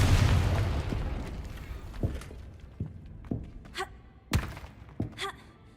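Fire spell explosions in the video game Hogwarts Legacy: a large rumbling blast that fades over a couple of seconds, followed by several smaller, sharp booms and pops spaced irregularly, moderately loud.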